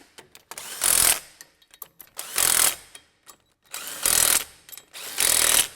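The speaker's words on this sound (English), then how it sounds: "So we'll use our nut driver" A nut driver runs down track fasteners on a Tacoma in four loud whirring bursts, each about half a second long. Small clicks and rattles fill the gaps between bursts, and no voices are heard.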